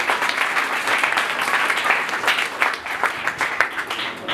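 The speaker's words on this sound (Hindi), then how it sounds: "आइए यीशु की सलीबी मौत के लिए जोरदार तालियां बजाएं।" Church audience applauding loudly at a sermon, a steady dense wash of clapping that holds throughout without talk over it.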